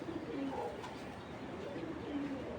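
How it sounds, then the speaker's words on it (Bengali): A young racing pigeon with pearl eyes gives soft, low cooing murmurs, close by, under a steady background hiss, with no talking. "খুব সুন্দর একটা ইয়াং কবুতর।"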